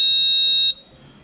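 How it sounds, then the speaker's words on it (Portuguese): A Digifly Archimede Plus paragliding variometer sounds its low-battery alarm: a steady, piercing electronic tone that holds for under a second and then cuts off, leaving quiet room hiss. "alarme de bateria baixa"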